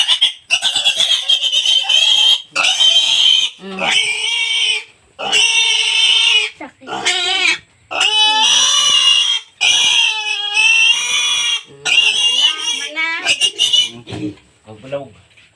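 Several pigs loudly oink and squeal in close, repeated bursts separated by short pauses, the shrill cries filling most of the recording.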